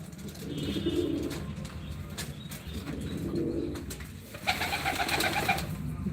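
Pigeons flying over a rooftop, with a few soft coos near the start and middle, then brighter chirps and faint wing flapping toward the end, against steady outdoor background noise.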